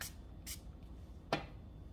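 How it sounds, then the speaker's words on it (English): Setting spray misted onto a beauty sponge, heard as three short bright hissing spritzes, the last one sharper and slightly louder, with quiet room noise between them. "So I just like spraying it on my beauty sponge"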